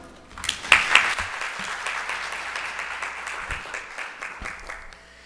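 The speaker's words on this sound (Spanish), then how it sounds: "Por favor, un aplauso." An audience claps to welcome Dr. Giovanni Priori, a Peruvian speaker at a civil justice forum in Panama. The applause swells quickly, stays dense and steady for several seconds, then fades out near the end.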